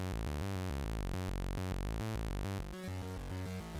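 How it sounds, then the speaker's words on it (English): A bright, buzzy synthesizer plays a sequence of saw wave notes in an even rhythm, sustained and harmonically rich, with no voices. "in this case a saw wave"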